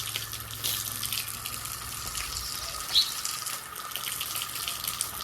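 Water runs steadily from a tap or hose in a courtyard, a continuous hissing flow at moderate distance with no voices.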